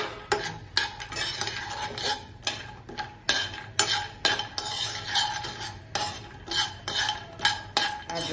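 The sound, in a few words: almonds, cashews and walnuts sautéed in ghee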